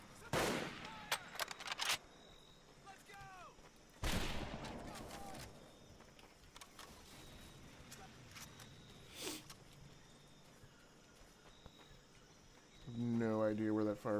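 Sharp gunshots and bursts of rifle fire crack out across a Pacific jungle battlefield in Medal of Honor: Pacific Assault, scattered shots spaced apart over faint insect chirring and quiet ambience.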